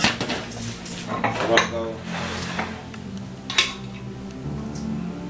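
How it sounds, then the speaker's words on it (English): Sugar and flour are stirred together in a bowl for a smoked apple pie, the utensil clinking and scraping against the dish in quick irregular knocks while someone talks. "We're going to go ahead and mix our dry ingredients together."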